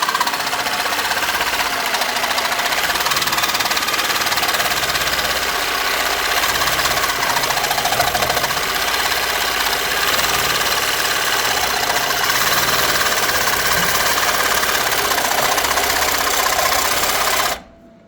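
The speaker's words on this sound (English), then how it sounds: "we're gonna cut with the Sawzall, nice and easy with the 24 tooth per inch blade" A Sawzall reciprocating saw with a 24 TPI blade cuts metal while fabricating a turbo exhaust adapter, giving a steady, loud, continuous buzzing rasp that runs for about seventeen seconds and stops abruptly at the end.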